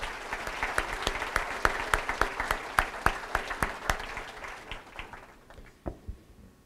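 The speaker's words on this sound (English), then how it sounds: "Round of applause for Memorial." Scattered clapping from a modest audience honours the Memorial team at a school quiz challenge, distinct individual claps in an uneven rhythm that thin out and fade toward the end.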